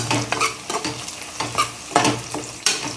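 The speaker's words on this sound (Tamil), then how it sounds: "கொட்டி விட்டு ஒரு கிளறி விட்டுடலாம் ஓகேங்களா." Biryani spices are stirred into onions frying in a pot, rhythmic scraping strokes of a spoon over a continuous close sizzle, with no talking.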